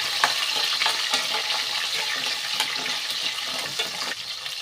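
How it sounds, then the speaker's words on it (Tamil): Garlic cloves and small shallots sautéing in hot oil for a traditional Pongal curry, giving a steady close sizzle with repeated stirring scrapes throughout. "பூண்டு, வெங்காயம் நல்லா வதங்கட்டும்."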